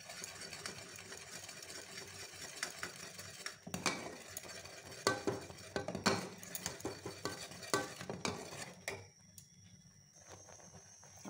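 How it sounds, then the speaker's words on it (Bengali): Thickening kheer stirred in a pot, with soft, irregular spoon scrapes and clinks against the metal over a faint background hum. The stirring is quiet, close and continuous, then drops off near the end. "এটা আমি এরকম করে নাড়তে থাকবো।"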